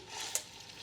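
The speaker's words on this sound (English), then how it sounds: "All right, I hear some sizzling." Italian sausage sizzles softly in a pot, a faint steady crackle with a brief brighter pop partway through and no voices.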